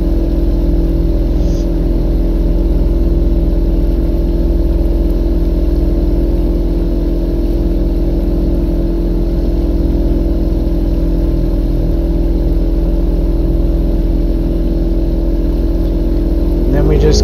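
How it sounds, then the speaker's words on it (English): A steady, loud video-game motorboat engine from Fishing Planet drones continuously at a constant pitch, briefly revving at the very end. "I know the boat's a little on the loud side"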